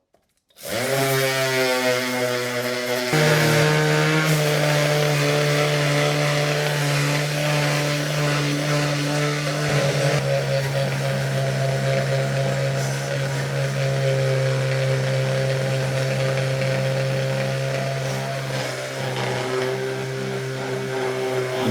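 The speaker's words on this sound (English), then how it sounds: "Just gonna take the little orbital sander here, try to get off a bunch of this rust." An orbital sander grinds rust off an old axe head, a loud continuous whirring drone that starts abruptly and holds steady throughout.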